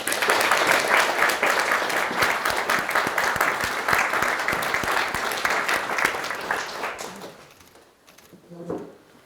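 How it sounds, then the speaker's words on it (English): Applause from guests at a UK civil wedding ceremony, a dense, steady clapping that fills the room for about seven seconds, then thins and fades out with a few scattered claps at the end. "Big round of applause."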